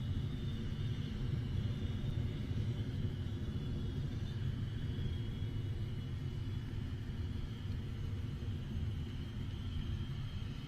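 First-stage engine of a Rocket Lab Electron rocket in supersonic flight near max Q, a dense, steady low rumble with a roaring noisy texture that holds without a break throughout, heard alone.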